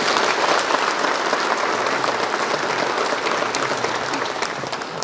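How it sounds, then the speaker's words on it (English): A large crowd at a state event gives visiting heads of state a dense, sustained round of clapping, loud and even from start to finish with a faint murmur of voices beneath. "Let us give Their Excellencies a big, big round of applause."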